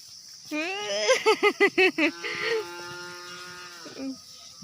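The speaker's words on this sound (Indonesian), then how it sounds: "Banyak sekali sapinya." A loud, close call from a herd of cattle filling a road, with a quavering, pulsing start, settles into a long, sustained low moo, followed by a shorter grunt.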